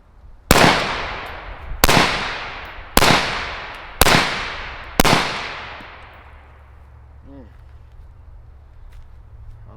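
Five loud, sharp gunshots from an LMT ION K 5.56 rifle with a 10.5-inch barrel, fired at an even pace about a second apart, each crack trailing off in a long echo before fading out.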